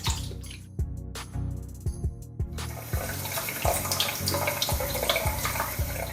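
Tap water runs into a sink while roast beef is washed in vinegar water, with rhythmic thumps and sloshes early on giving way to a steady splashing rush of water.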